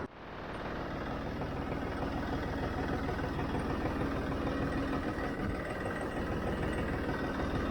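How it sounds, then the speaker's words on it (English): A tractor engine idles in a steady, even rumble that runs unbroken from start to end, close and alone with no talk over it. "Let me back this tractor out and see what I can hook up to."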